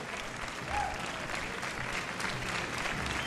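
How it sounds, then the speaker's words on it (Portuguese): Audience applause for a dance academy group at a performance in Oporto, a dense, even patter of many hands clapping at moderate volume, continuous for a few seconds without talk. "Um aplauso para elas. Uma salva de palmas para elas"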